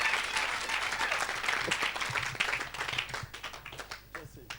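A church audience applauding at an evangelistic gathering, a dense burst of clapping that thins out toward the end, with a voice speaking over it.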